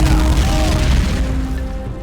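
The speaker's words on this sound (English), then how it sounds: "with some well-placed anti-tank grenades, we can blow it up without too many problems" An anti-tank grenade goes off in the World War II strategy game Men of War, a loud, dense boom that fills the whole clip with rumbling debris and battle noise and fades slightly toward the end.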